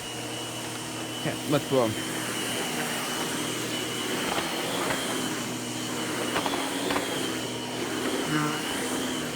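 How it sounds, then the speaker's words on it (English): Miele upright vacuum cleaner running indoors, a steady whirring drone with tonal hum underneath, while people talk briefly and a few thumps and bumps sound over it. "I just vacuumed this piece"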